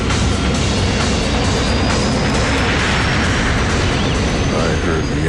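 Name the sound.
Boeing 747 jet engines at full throttle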